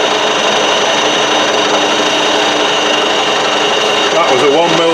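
A metal lathe taking a light 1 mm cut off the diameter during a collet build, a loud steady machining whine with tonal hum that continues evenly throughout, with a slight shift in pitch near the end.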